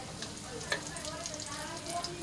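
Cumin seeds crackle and sizzle in hot oil, a soft continuous frying hiss with small pops.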